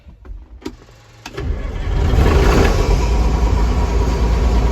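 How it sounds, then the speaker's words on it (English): Old John Deere 6600 combine engine cranks with a couple of sharp clicks, then catches and settles into a loud, steady diesel rumble that holds to the end. "this old John Deere is a good starter"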